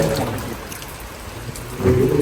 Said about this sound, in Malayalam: മഴ നല്ല മഴ